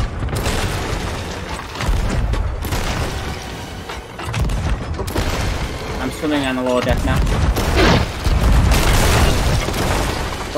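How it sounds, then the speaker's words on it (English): Cannon fire slamming into a ship in Sea of Thieves, heavy booms and splintering impacts landing in quick succession amid loud ongoing battle noise and occasional voices. "Oh, we're taking heavy fire!"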